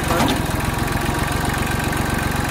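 A tractor engine idles close by, a steady low chugging rumble that continues evenly without change.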